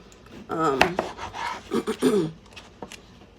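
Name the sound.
knife slicing and cutting tomatoes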